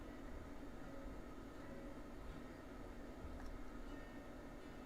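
A locomotive in the game Railroads Online picks up speed, giving off a quiet, steady mechanical rumble and rushing hiss with no clear peaks or voices.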